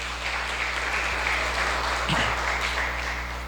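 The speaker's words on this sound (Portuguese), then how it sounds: "Vamos dar uma salva de palmas para eles também." Applause from a church congregation welcoming visiting siblings at a celebration service, a soft steady patter of many hands, somewhat distant, with a low hum beneath it.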